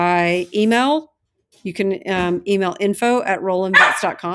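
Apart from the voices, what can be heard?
dog barking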